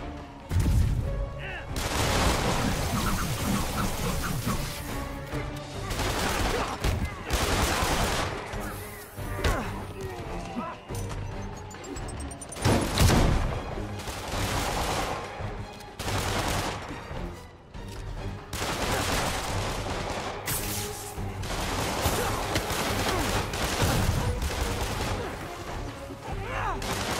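Gunfire in the Spider-Man video game: bursts of shots and crashing impacts recur throughout, loud and dense, with talk over the action.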